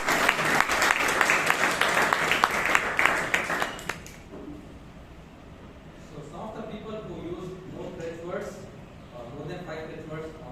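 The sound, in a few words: audience applause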